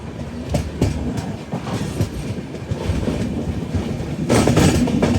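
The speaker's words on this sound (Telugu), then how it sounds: "మన ట్రైన్ అయితే డైవర్ట్ అయిపోయింది రోడ్ కమ్ రైల్వే బ్రిడ్జ్కి." An express train with LHB coaches runs over a road-cum-rail bridge, its wheels beating a steady clickety-clack that grows louder and denser near the end, heard alone without talk.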